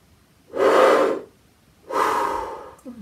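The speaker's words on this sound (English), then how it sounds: "So we'll do a couple more of those karate chop breaths." Two quick, deep, forceful breaths drawn in before playing the trumpet, each a loud close rush of air about half a second long, separated by a brief pause, with no talk.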